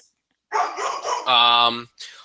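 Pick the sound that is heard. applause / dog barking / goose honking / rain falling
dog barking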